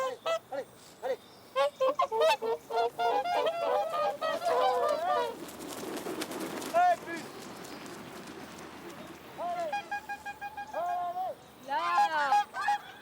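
Snow geese raised in Canada honking in a flock, many overlapping loud calls in bursts with a rushing, wing-flapping stretch in the middle and more honks near the end.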